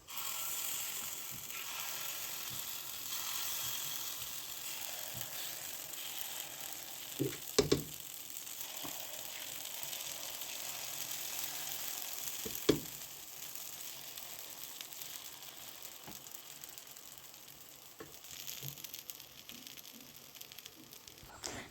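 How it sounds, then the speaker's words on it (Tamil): Green gram paniyaram batter frying in oil on a hot pan, giving a steady close sizzle throughout with a few brief clinks and scrapes of utensils, no talking. "கல் நல்லா சூடானதையும் எண்ணெய் ஊற்றிட்டு நம்ம பனியாரம் ஊற்றுறதுக்கு ஆரம்பிக்கலாம்"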